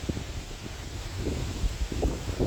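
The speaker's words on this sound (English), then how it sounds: "So bear with me with this wind." Steady wind buffets the microphone, a low rumbling roar with gusty swells and no voices.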